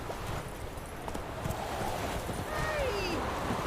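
Hooves of the horse Roach clip-clopping steadily in The Witcher 3, a rhythmic galloping patter over outdoor game ambience, with a voice speaking at the start.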